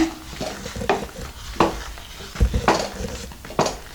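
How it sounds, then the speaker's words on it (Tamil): A long ladle stirs spattering rava kichadi in a pot, giving a series of scraping, clinking strokes over a light sizzle, with roughly one stroke every second. "நீளமான கரண்டி வச்சு கொஞ்சம் தள்ளி நின்று கிளறி விட்டுக்கோங்க"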